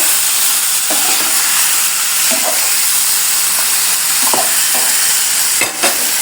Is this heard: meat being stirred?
yes